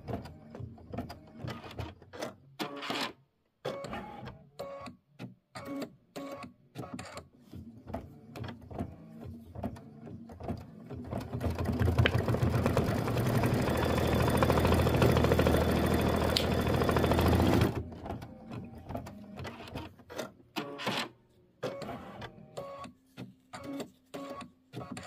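An embroidery machine stitches a quilted vase block, giving close, rapid, rhythmic mechanical clatter throughout, with a louder, denser buzzing stretch in the middle before the chattering stitching resumes.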